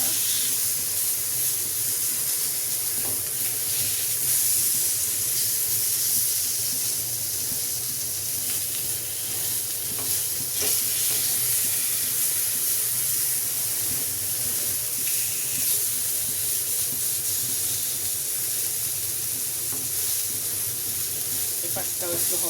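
Tandoori chicken sizzling in a frying pan makes a loud, continuous hissing fry with faint crackles, close up and unbroken throughout.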